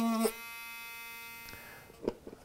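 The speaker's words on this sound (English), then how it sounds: "So I'll make that cut right now before I put the cutting tool away." A small motorized cutting tool trims a ring on the back of a clock, giving a steady, faint electric whine that runs for about a second and a half before it cuts out, followed by a few light clicks.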